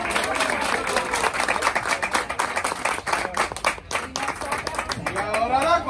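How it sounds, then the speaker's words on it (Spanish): A crowd claps and applauds at a baby shower, dense continuous clapping of many hands, close and lively, with voices mixed in throughout. "¡Aplauso!"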